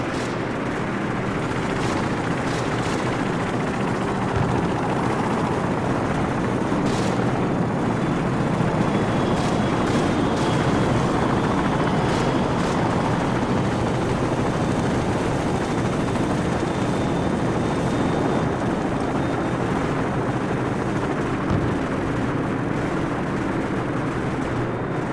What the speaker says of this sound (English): friendly helicopters entering the area